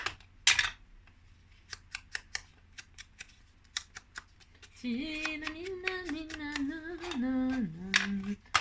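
Scissors snipping paper while making a simple greeting card, a series of short crisp cuts in a quiet room, followed by a steadier tonal rustle of paper or card being handled near the end.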